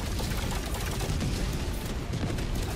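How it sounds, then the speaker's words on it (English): Explosions fill a Helldivers 2 co-op battle against Automatons, a dense, loud and unbroken roar of blasts and gunfire with no clear gaps. "it's all just explosions"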